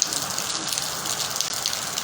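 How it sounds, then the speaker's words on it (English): Steady rain on a cool, bright morning in southern Nigeria, a continuous hiss of falling water on surfaces with scattered drop ticks, fairly near and constant throughout, with no talk. "very rainy, bright weather we have for the morning"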